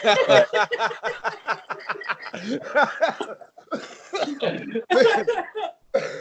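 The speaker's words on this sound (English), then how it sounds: "every time I start to laugh hard, I start to cough" Bursts of laughter dissolving into repeated rough coughing from a person getting sick, close up, with short breathy pauses between the fits.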